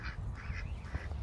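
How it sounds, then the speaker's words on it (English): Ducks at a duck park give a few faint, distant quacks over a soft outdoor background. "These are just ducks."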